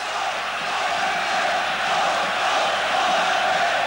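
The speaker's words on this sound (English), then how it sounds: "Capacity crowd here to urge on the home side, Stuttgart." A capacity crowd roars at Stuttgart's home ground during the 1988-89 UEFA Cup final against Napoli, a broad, continuous wash of cheering and chanting filling the stadium under faint commentary.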